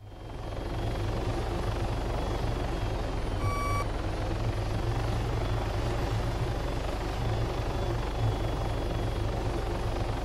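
A helicopter in Arma 3 drones steadily and loudly with a continuous rotor thrum, and a short electronic tone beeps once partway through.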